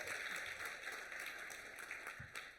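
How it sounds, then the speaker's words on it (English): Faint audience applause, a steady patter of many hands clapping, with a cheer or two rising briefly near the end. "let's have a round of applause"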